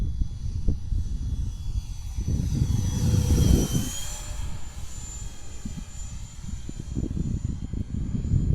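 An F-86 jet makes a low pass, a distant roar rising to a loud rushing peak with a sweeping pitch shift as it goes by, then fading under steady wind noise.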